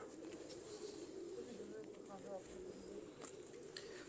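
Soft coos from Sandurii Palak wali breed pigeons murmur repeatedly against a steady background hum, with faint voices talking nearby.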